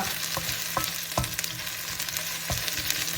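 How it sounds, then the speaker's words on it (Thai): Shallots and garlic stir-fry in hot oil for pad thai with prawns, a steady close sizzle punctuated by a few regular spatula scrapes and taps against the pan. "ผัด หอมแดงกับกระเทียมให้หอมค่ะ"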